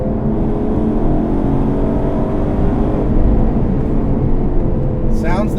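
A 2019 Aston Martin Vantage engine accelerating, heard from inside the car as a loud, steady roar with a rising harmonic whine. It drifts slightly in pitch, with a short high chirp near the end.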